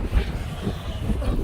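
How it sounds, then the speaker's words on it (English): Strong gusty wind buffeting the microphone outdoors during extreme kite flying, a rumbling low roar rising and falling throughout with no talk. "Was not expecting it to be this windy"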